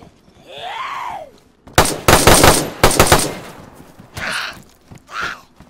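Gunfire in DayZ: a tight cluster of loud, sharp rapid shots fired in quick bursts, with quieter movement sounds before and after.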